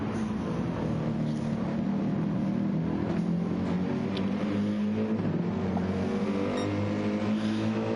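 Porsche 911 race car engine in a sim racing game during an endurance race at Daytona, a steady droning roar with harmonic engine tones running continuously at moderate level throughout.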